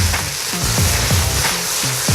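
Shredded carrot and celery sizzle loudly in a hot pan, with a steady frying hiss and a rhythmic scrape of stirring repeated roughly every third of a second.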